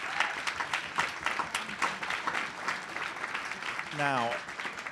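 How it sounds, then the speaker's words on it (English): An audience at a climate-displacement panel gives a round of applause, steady dense clapping filling the room, moderately loud, with a voice starting to speak near the end. "Please give a round of applause."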